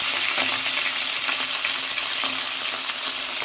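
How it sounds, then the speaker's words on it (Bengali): Meat frying in a hot pan in a village kitchen, giving a steady, close and loud sizzle with faint crackles and stirring through it, and no talking. "এবার আমি মাংসগুলো তুলে দেব, যাতে মাংসটা একটু ভাজা ভাজা হয়ে আসে"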